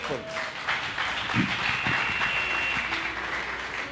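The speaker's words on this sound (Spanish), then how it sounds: "Le damos un aplauso a Dios" Steady applause from a church congregation fills the room, a continuous wash of clapping with some voices mixed in.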